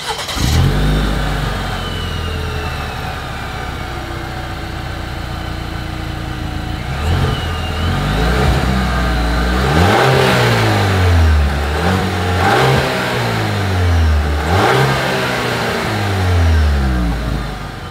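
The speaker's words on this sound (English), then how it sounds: "as always, here is that exhaust clip." A 2024 Chevrolet Traverse SUV engine idles and then revs repeatedly through its dual exhaust, loud and close, with several rising and falling bursts and no talking.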